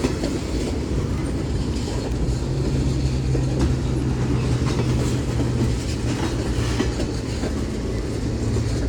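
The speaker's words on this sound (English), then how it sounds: "Hey, he's got those like little intermodal tanker" Union Pacific manifest freight train with small intermodal tanker cars rolling past Central Avenue, a continuous close, loud rumble with rhythmic wheel clatter and a low steady drone throughout.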